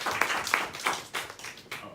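Sparse clapping from a small audience after a Days of Reparations to African People event in Huntsville, with a handful of separate claps landing irregularly at moderate volume and no talk over them.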